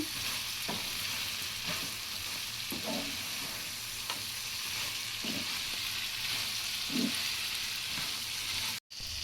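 Small crabs with chilli powder and coriander powder are mixed in a frying pan, with a steady close sizzle and occasional soft scrapes of stirring throughout.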